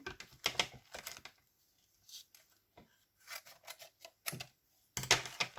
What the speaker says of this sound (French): On va venir découper notre poisson.